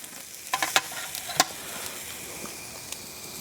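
A Walmart wagyu steak sears in a pan with a quiet, steady sizzle, broken by a few sharp crackles and pops near the start and a faint tick later, with no talk.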